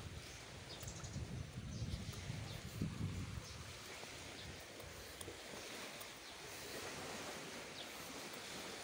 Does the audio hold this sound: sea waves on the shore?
yes